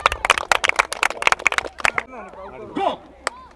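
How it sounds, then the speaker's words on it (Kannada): Schoolchildren clap in quick bursts to welcome a guest at an outdoor school kambala event, a dense run of sharp claps followed by scattered voices and calls. "ಚಪ್ಪಾಳೆ."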